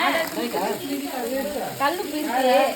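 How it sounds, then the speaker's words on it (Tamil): Chicken biryani masala with mint sautés in a pan outdoors, a steady sizzle and fry with stirring scrapes running throughout while a person talks over it. "புதினா போட்டாங்க போட்டு நல்லா வதக்கிட்டாங்க"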